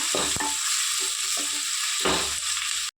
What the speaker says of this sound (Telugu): ఒక నాలుగు పచ్చిమిరపకాయలు కలిపి కలిపేసుకున్నాము ఒకసారి ఫ్రై చేసుకుందాం